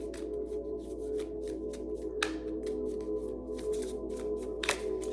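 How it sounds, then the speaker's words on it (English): A deck of tarot cards is shuffled by hand in quick repeated riffles and soft slaps, close and fairly quiet, with a couple of sharper snaps along the way and no talking. "Shuffling for Taurus."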